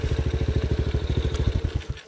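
A small Romet Racer 125 motorcycle engine idles close by with a fast, steady, even putter for about two seconds, with no talking.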